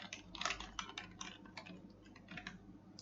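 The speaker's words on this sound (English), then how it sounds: "Now if you type another message" Computer keyboard typing, quick irregular clicks in short bursts, fairly close and quiet over a low steady background hum, with no talking.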